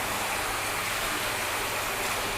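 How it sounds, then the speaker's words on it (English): Water sprays steadily onto ceramic-coated car paint, a continuous close hiss and patter with no breaks and no voices. "as the water hits, it's just beating up and repelling"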